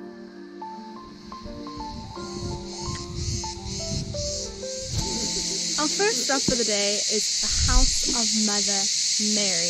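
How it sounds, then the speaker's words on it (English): Beetles outdoors at the ruins of Ephesus, Turkey, make a loud, steady, high-pitched buzzing that runs through the whole stretch and swells toward the end, while a person talks over it. "Excuse the loud buzzing in the background, those are actually beetles and I can hardly hear myself think."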